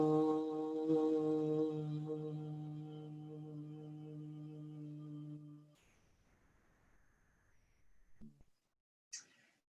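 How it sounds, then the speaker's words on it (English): Brahmari bumblebee breath: a steady, close hummed tone with rich harmonics held for several seconds on one exhalation, then fading into quiet breath and faint noises. "It is simply humming on the out breath."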